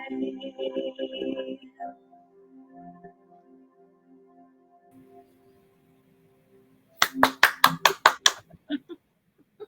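After a soft sung passage fades, a pair of hands claps about eight times, sharp and close, in a quick regular rhythm near the end.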